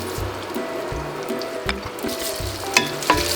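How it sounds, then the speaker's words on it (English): Whole dry spices frying in a pan for Oaxacan mole, a steady close sizzle with occasional stirring clinks and scrapes, no talk. "anything that has a shape of its own, I'm going to fry that up next"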